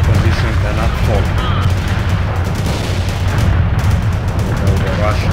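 Heavy World in Conflict battle gunfire during a Seattle invasion mission: a continuous, dense roar of shots and booming explosions with voices calling out over the din.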